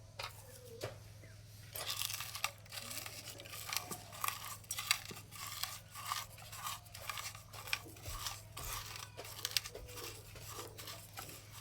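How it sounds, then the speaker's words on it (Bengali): Soft, rapid squelching and crunching as fried chillies are mashed with salt by hand for a cauliflower bhorta, steady patter close up and fairly quiet. "এবার ভাজা লঙ্কাতে নুন দিয়ে একটু ভালো করে মেখে নেব।"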